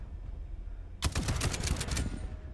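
A close, loud burst of rapid assault rifle fire in Space Engineers 2, about a dozen sharp cracks in quick succession for roughly one second after a quiet start, then a fading tail.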